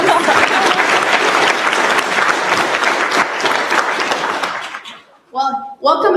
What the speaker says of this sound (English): Can we all, again, clap for them, for their music performance?